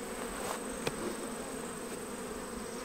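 Honey bees hum steadily around an open hive during summer hive management, a dense, continuous buzz close by with one brief knock partway through.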